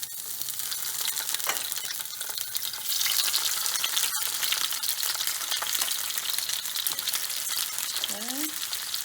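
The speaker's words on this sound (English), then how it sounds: "The oil is hot, so I'm going to add the calamari in one by one." Calamari sizzle in hot garlic-infused oil with a dense, continuous crackle and a brief sharp click partway through, as a voice briefly speaks near the end.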